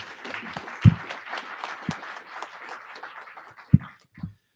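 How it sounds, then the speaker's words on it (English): Light, scattered applause from a small audience at a National Federation of the Blind Kentucky general session, a handful of claps with a few louder thumps, fading out toward the end. "Let's give Karen a round of applause"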